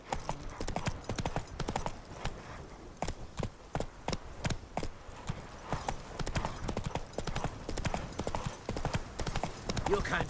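Roach, Geralt's horse in The Witcher, trots with steady clip-clopping hooves, close and rhythmic, continuing throughout under occasional voices and faint game ambience.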